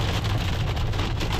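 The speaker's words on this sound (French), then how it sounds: "il y a la grêle et tout" Hail pelts a car during a road trip, a dense continuous drumming rattle on the bodywork, steady and loud with no pauses or voices.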